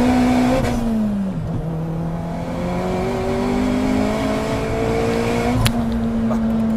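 A 420 hp Fiat Grande Punto Abarth revs on an open road, its engine droning loud and close with pitch that dips briefly and then climbs steadily, with no talking.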